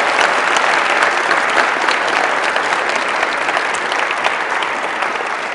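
Sustained audience applause at a Los Angeles youth challenge event, a dense, steady wash of many hands clapping at even loudness throughout, with no talk over it.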